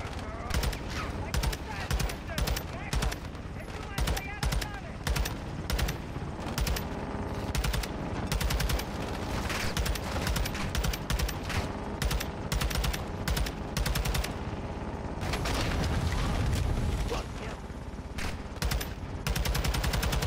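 Gunfire in the video game Call of Duty: Modern Warfare II comes as steady, rapid automatic bursts with sharp repeated cracks for about twenty seconds, and a player's voice is heard over it.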